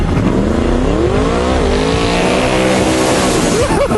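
A 2,100 brake horsepower car on road-legal tyres warmed to melting point launches hard, its engine roaring loud and close as the pitch climbs steadily through the gears, with a brief squeal near the end.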